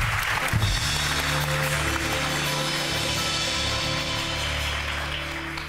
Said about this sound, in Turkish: Alalım kocaman bir alkış alalım.